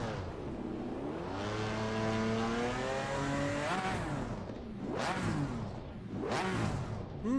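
A GT4 race car engine in Assetto Corsa Competizione revs with a raspy, rising tone, building and falling, then two sharp throttle blips near the end, loud and close with no talk.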